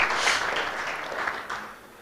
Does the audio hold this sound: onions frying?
no